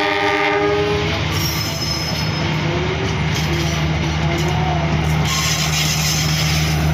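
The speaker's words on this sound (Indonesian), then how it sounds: "Ini ada kereta lewat dulu ya" A Pantura line train passes close by with loud rumbling, a horn sounding at the start and wheels squealing, then a steady clickety-clack of wagons running on as it goes by, with no talking.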